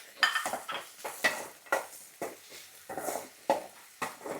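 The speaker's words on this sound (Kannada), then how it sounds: "ಇಲ್ಲಿ ಈರುಳ್ಳಿ ಫ್ರೈ ಆಗ್ತಾ ಇದೆ." Onions fry in a pan with chopped capsicum added, for baby corn manchurian, as a spatula scrapes and stirs in a regular rhythm of about two strokes a second over a soft sizzle, close by.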